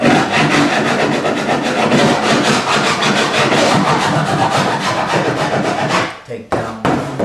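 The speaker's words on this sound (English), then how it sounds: "I use a file, wood file." Steady back-and-forth rasping of a wood file across a cured boat deck surface, loud and close, continuous coarse scraping strokes that stop briefly near the end.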